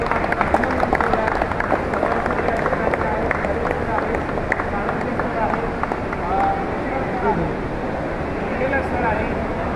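A crowd at an airport welcome for returning skaters claps loudly for the skating coaches, dense sustained applause mixed with cheering and chatter throughout.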